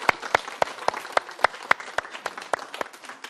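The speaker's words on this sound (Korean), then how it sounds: "박수." A lecture audience at a laughter yoga class claps in unison, sharp regular claps about every quarter second over a softer bed of scattered clapping and crowd noise.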